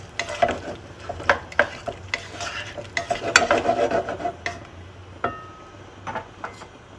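Cauliflower softening in about 100 ml of milk in a pan for a puree, stirred with a utensil that scrapes and knocks against the metal in irregular bursts over a low, quiet simmer, with no voices.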